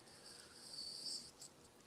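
Crickets chirp steadily at a distance, a faint high continuous trill with a slight swell in the middle, alone without any voices.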